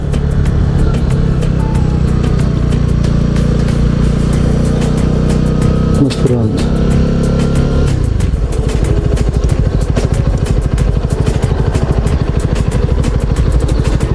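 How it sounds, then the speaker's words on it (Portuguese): A Honda CB125R motorcycle with its stock exhaust runs loud and close, a steady engine drone that dips briefly around the middle before settling back, while someone speaks a few words over it. "O microfone não dá para dar o real som da moto."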